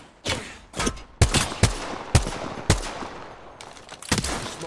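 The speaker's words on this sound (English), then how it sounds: "Smart bullet firing." Bursts of smart bullet gunfire from Apex Legends, several sharp separate shots and short volleys spaced irregularly, loud and close with no voices.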